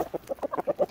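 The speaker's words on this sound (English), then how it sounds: "Calling all chickens!" Chickens in a mixed backyard flock with ducks and Muscovies cluck in a quick run of about seven short, close calls at a steady rhythm, called in for feeding.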